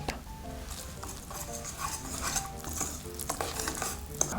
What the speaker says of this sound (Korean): 잘 저어주겠습니다.